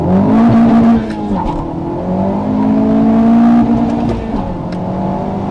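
A 2019 Honda Civic Type R pulls away in first gear, its engine note rising and falling in loud, close revving sweeps with no talking.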